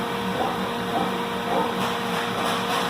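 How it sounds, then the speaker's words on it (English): A capping turret machine runs, giving a steady loud mechanical whir and hum that continues without pause, with no talk. "get the capping turret into its lowest position. And you'll just do that by running it a couple times"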